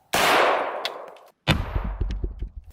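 A CMMG 9mm AR carbine fires into a solid tungsten block, giving two sharp, loud, close reports with a ringing metallic impact and clattering tail after the second shot.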